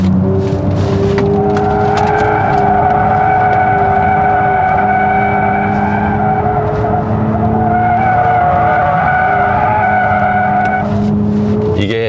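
A 2026 Genesis GV60 Performance electric car takes a downhill corner in comfort mode, tires squealing in sustained tonal howls that rise and shift through the bend, loud and close, with a brief pause midway.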